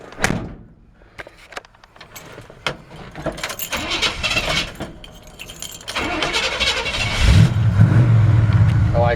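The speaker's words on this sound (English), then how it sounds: "I'm okay with the fact that that didn't crank the very first time I turned the key" A 1965 Chevrolet C-10 pickup with an old engine is started with the key: keys jangle and a door moves, then the starter cranks loudly and the motor catches and settles into a steady, low running rumble.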